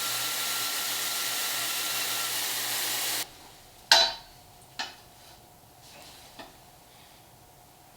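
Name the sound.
trimming the ear off a motor mount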